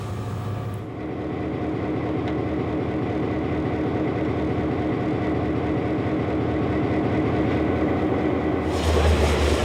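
An Algoma Central tour train passing near Searchmont station: a continuous heavy rumble of wheels and rail cars, loud and close, holding steady for nearly ten seconds with rhythmic clatter throughout.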